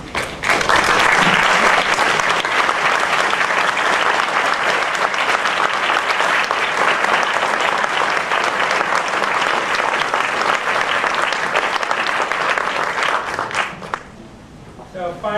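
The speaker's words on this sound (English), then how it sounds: "If they would stand up so that we can give them a round of applause" Audience at an NCSU mathematics graduation ceremony applauds the faculty, a loud, dense and steady ovation of many hands lasting about fourteen seconds before dropping off abruptly.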